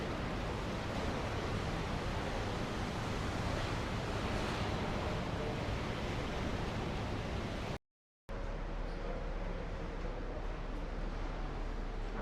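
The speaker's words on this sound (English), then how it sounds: "It is a wave pool, everybody." A wave pool aboard the cruise ship Odyssey of the Seas gives off a broad, steady rush of churning water, loud and constant, with a brief cut partway through before the washing surf resumes.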